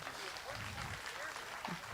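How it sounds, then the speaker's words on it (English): Crowd applause at a county fair swine show, soft and somewhat distant clapping from the audience mixed with arena murmur and a voice. "Let's give her a nice round of applause."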